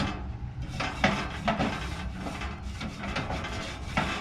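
A wire brush scrubbing a stainless steel grill grate on a smoker after cooking spare ribs, heard as close, raspy back-and-forth strokes in a steady scraping rhythm.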